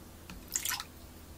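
A small amount of water is poured into a soy sauce dressing in a home kitchen, giving a faint, brief splash and trickle lasting well under a second, close by and otherwise quiet.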